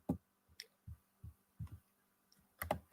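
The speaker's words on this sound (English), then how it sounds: "You can probably hear me clicking buttons." A computer mouse clicks in a quiet room with soft, faint, irregular taps, about eight in three seconds, with no voice over them.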